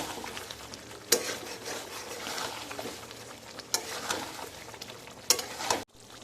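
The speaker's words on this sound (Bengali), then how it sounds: "এবারে এই মাংসটাতে গরম জল অল্প একটু অ্যাড করে দেব আর মাংসটা খুব ভালো করে কষাতে হবে" Chicken sautés in a pan with a splash of hot water, a soft continuous sizzle and bubbling with occasional louder spatula scrapes, fading out near the end.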